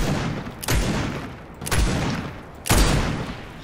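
Three heavy booming shots from a sniper rifle in Fortnite's creative mode, evenly spaced about a second apart, each a loud sharp crack followed by a rumbling decay.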